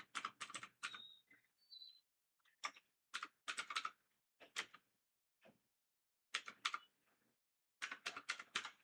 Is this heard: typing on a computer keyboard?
yes